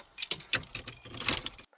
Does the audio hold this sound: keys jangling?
yes